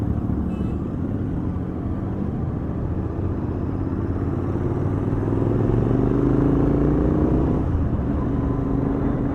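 A motorcycle rides along a mountain road, its engine a loud, continuous drone mixed with heavy wind rush that holds steady throughout, with no voices.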